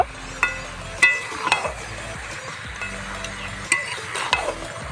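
Chicken curry pieces fry in oil while a spoon stirs and scrapes the pan, giving several sharp scraping knocks over a soft, low sizzle, close and alone.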